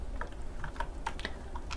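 Code being typed on a computer keyboard, a steady run of quick, soft keystrokes up close with a few sharper clacks and no talking.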